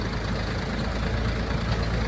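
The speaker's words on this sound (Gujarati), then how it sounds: "આ ટ્રેક્ટરના અવાજથી ગાઈસ આપણે છે ને થોડો અવાજ આવે" A tractor engine runs in a steady, rumbling drone with a dense low hum, close and unbroken for two seconds, no voices over it.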